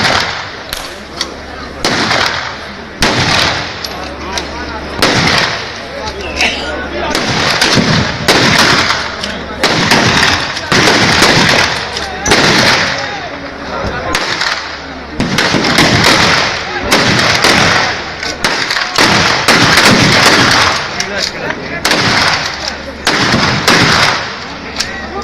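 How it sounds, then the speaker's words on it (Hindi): Rapid volleys of many gunshots, about 150 rounds fired within a couple of minutes, crack out in dense irregular bursts with brief gaps, loud and close throughout. "ये आप देख रहे हैं गोलियां चली जा रही हैं।"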